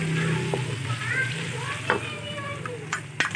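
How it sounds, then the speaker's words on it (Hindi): Garlic and ginger sizzling in a pan at the start of a Punjabi shaljam meat dish, a soft steady crackle with occasional stirring scrapes and clinks, fairly quiet and close. "अभी मैं इसको 2 से 3 मिनट तक भूनूंगी"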